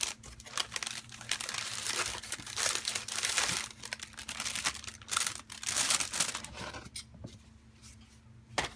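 A paper envelope thick with folded sheets is handled and crinkled up close, with steady rustling and crackling that rises and falls continuously and briefly quiets near the end.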